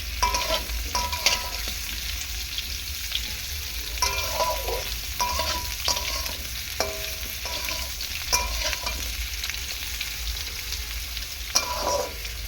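Papaya pieces frying lightly in oil in a pan for a papaya dal, a constant close sizzle with repeated stirring scrapes and clatters of a spatula at an uneven rhythm, no voices.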